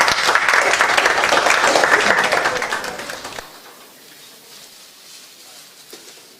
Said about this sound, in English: Can we make applause, everyone?